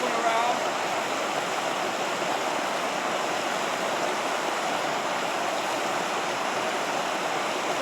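Continuous rushing water from Big Creek in the Glacier Peak Wilderness, a steady broadband hiss and splash with no pauses.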